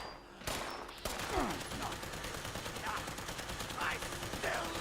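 Gunfire in Fallout 76 against a tough level 100 cultist high priest: a dense run of rapid shots after a brief quiet start, steady and close, with faint electric zaps under it.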